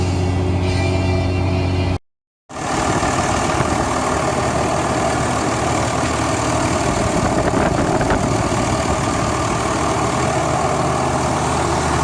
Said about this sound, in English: That's how your Cummins should idle, like that.